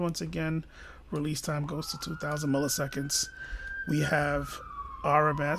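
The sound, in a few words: police siren in the city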